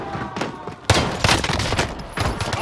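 Video game gunfire crackles in dense automatic volleys, with a sharp heavy burst followed by further rattling strings of shots, close and loud.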